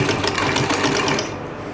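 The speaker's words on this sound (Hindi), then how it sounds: "यहाँ पे अब हम इसके नेक के सेंटर से सिलाई लगाना शुरू करेंगे" A sewing machine stitching fabric at the neckline of an angrakha-style garment, a fast even mechanical rattle running continuously before easing off at the end.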